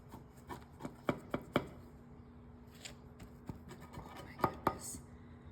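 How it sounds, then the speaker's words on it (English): A knife cuts a slice from a two-ingredient cake, giving a string of sharp taps and scrapes against a board or plate, close and fairly quiet. "Now it's time to cut a slice."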